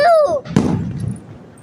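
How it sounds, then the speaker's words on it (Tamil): A single Diwali firecracker burst nearby, a sharp crack with a rumbling tail, following a brief whistling rise. "அத பாருங்க गाइस, எங்க அப்பா வெடிச்சிட்டு இருக்காரு"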